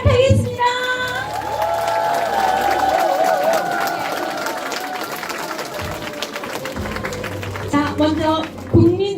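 An audience at a Democratic Party member academy in Yuseong, Daejeon breaks into sustained applause and cheering, a dense steady wash of clapping under music and a speaking voice.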